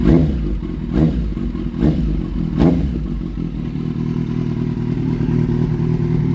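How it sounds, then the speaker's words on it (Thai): A 2013 Kawasaki Z800 motorcycle engine idles steadily up close, broken by three or four short, sharp throttle blips that rise and fall in the first few seconds before the engine settles back to an even idle. "ผมมาลองฟังเสียงเครื่องนะครับผม"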